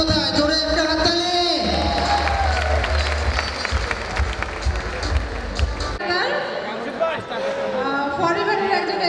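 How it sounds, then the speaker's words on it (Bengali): Audience applause at a Grand Successday celebration, with steady clapping and crowd noise that stays busy for the whole stretch while voices talk and call out over it. "জোরে একটা হাততালি।"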